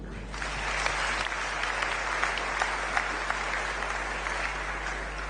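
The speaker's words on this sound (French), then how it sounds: "Nous acclamons encore pour eux." A church congregation applauds steadily, a dense, even wash of clapping from many hands that holds for the whole stretch under a low hum.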